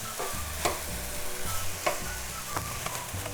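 Sugar is stirred into sweet saffron rice (zarda) in a pan, with a steady soft sizzle and a few scraping strokes under background music.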